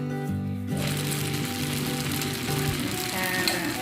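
Thai-style fried noodles, old-fashioned rice vermicelli, sizzle and crackle steadily as they are stir-fried in a hot wok, a dense continuous frying hiss close by, with faint kitchen sounds but no clear talk.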